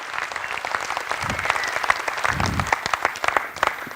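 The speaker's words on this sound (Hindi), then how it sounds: "अरे ताली तो बजाइए, इतनी बड़ी बात कही है।" An audience at a talk about a software company's revenue model breaks into applause, a steady, dense round of clapping with crisp individual claps and a faint voice murmuring underneath.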